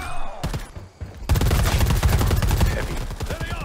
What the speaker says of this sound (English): We're getting shot at. Or somebody's shooting at someone.